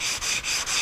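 Sandpaper is rubbed back and forth over the wood of a Martin 00 style acoustic guitar in the shop, giving four quick, close, scratchy strokes in a brisk, regular rhythm.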